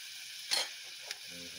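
Pieces of shol (snakehead) fish drop into hot oil for a spicy oil curry, giving two short, faint bursts of sizzling, the first stronger, followed by a quiet hiss.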